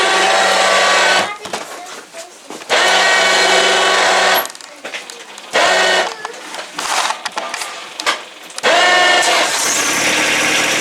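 A loud tractor engine cranks and runs in bursts at a deer camp, cutting out and restarting several times, with rattling mechanical noise between the roaring stretches.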